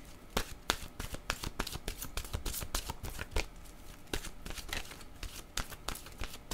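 A deck of cards is shuffled for a card reading, with a quick run of crisp riffling snaps and soft papery slaps repeating close but fairly quiet throughout.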